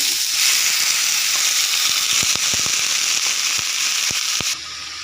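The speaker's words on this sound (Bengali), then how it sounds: "পেঁয়াজটা লাল করে ভেজানো হয়ে গেছে আমি এখন সেই লাই শসা আর আলুটা দিয়ে" Bottle gourd peel and potato sizzle loudly in a pan with browned onion, a steady bright hiss broken by scattered pops and crackles, easing slightly near the end.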